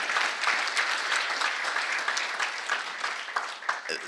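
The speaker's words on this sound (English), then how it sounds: "let's applaud for these young people" Sustained applause from an audience at a regional economic growth and real estate summit, dense and steady throughout with a few louder claps standing out near the end.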